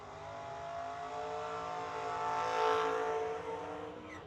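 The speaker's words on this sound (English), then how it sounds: "Couple of nice big burnouts there." Race car doing burnouts at the Million Dollar Race: a sustained, roaring engine held at high revs with a screeching tire squeal, swelling louder midway and then easing off.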